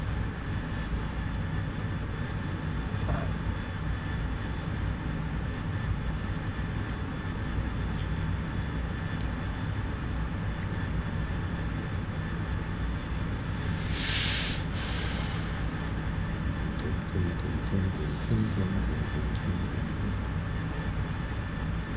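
An AV-8B Harrier jet in the DCS flight simulator drones steadily throughout with a constant engine roar and whine. A few faint brief chirps sit over the drone.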